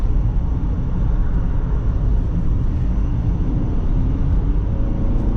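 A 2008 Toyota RAV4 accelerating on the road, heard from inside as a steady low engine and road drone with broadband tire and wind rush, continuous and fairly loud, no voices.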